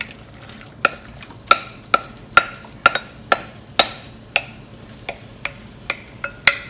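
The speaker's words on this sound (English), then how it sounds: "you're going to saute this in a pan until the mix is dry" Tuna mix sautés in olive oil in a pan over medium heat, a soft sizzle under a dozen or so sharp, evenly spaced clacks of a utensil stirring and scraping against the pan.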